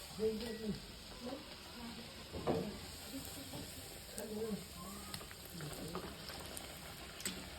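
Tomato puris deep-frying in hot oil, a faint continuous bubbling sizzle with scattered pops, while someone talks over it throughout.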